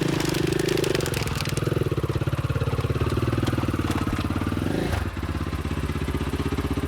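A Timbersled snow bike engine revs and chugs up a loading ramp, with a loud, steady mechanical pulse that dips briefly near the end before carrying on.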